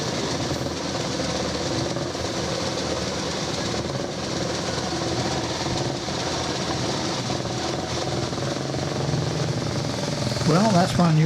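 A 25-year-old vintage motorbike setting off at the Banbury Run, its engine running continuously with a rumbling, rattling drone amid outdoor crowd noise, with voices speaking over it.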